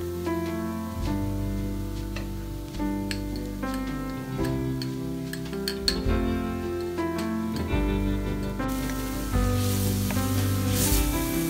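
Spices with chili powder sizzle in hot oil while frying for a winter duck curry: a steady, close sizzle runs under a background of music, and the frying brightens and intensifies toward the end.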